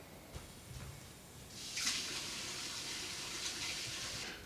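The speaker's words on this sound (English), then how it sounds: "While we do that, we're going to go turn our water on." A kitchen or bathroom tap is turned on and runs as a steady hiss of flowing water, starting softly and then holding at a constant moderate level on its own.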